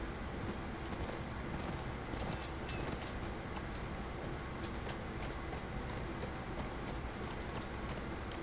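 Horse hooves clip-clop at a steady walking rhythm under continuous rumbling ambience in The Last of Us, fairly faint and even throughout.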